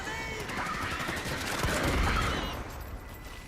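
Rapid bursts of gunfire and a grenade blast rattle through a Starship Troopers combat game, dense and continuous at moderate level with a heavier low thump near the middle.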